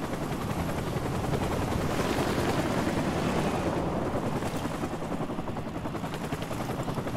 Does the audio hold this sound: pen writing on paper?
no